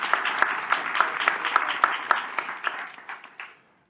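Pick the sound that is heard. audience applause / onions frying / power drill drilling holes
audience applause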